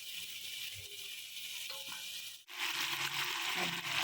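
Rice kadhi mixture roasting in ghee, a soft steady sizzle that briefly drops out, then returns brighter and louder, with no voices.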